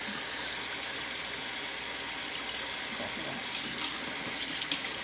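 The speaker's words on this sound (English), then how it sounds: "just wash it, rinse it, and get any excess out" A salmon fillet being rinsed under a running kitchen tap, a steady close gush of water splashing into the sink for the whole stretch with a slight change in flow near the end.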